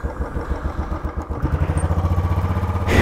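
A Royal Enfield motorcycle pulls away near a hotel in Bilaspur, its engine thumping in a steady rhythmic beat that swells as it gets going, loud and close with no talk.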